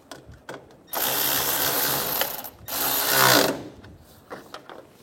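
A hand ratchet tightens a bolt down in two close, loud bursts of rapid mechanical clicking separated by a brief pause, with softer handling taps before and after; no one speaks.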